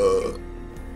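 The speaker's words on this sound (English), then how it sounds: "stomach sends it back as burp" A single loud burp erupts at the start, a throaty voiced belch that fades out within about a third of a second, leaving only faint low background noise.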